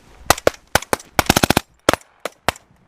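Rapid rifle fire from troops training in minus 20 degree snow, a loud close volley of sharp cracking shots in quick irregular bursts, with short pauses between groups.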